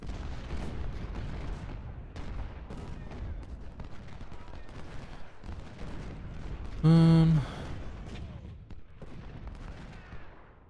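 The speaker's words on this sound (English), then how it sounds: "They do have a lot of artillery." Battle in the Ultimate General: Civil War game: dense, continuous artillery booms and musket volleys rumble throughout, with a brief louder tonal burst partway through and faint speech underneath.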